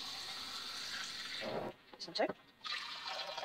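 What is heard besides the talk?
water poured into jars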